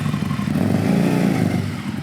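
A motorcycle engine, an Aprilia RSV Mille SP, runs steadily at close range with a strong low, throbbing drone and a slight throttle swell, no talk over it.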